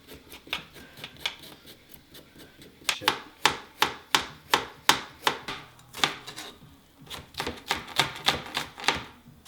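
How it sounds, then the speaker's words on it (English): A knife trimming ginger on a cutting board, a run of crisp, evenly spaced chopping taps close by, sparse at first and then quicker and louder, with no talk. "So we're trimming up that ginger."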